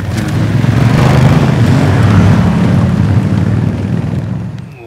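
Honda 1000cc motorcycle engine rumbling steadily and loudly up close, a dense low-pitched pulsing drone that holds for several seconds before easing slightly at the end.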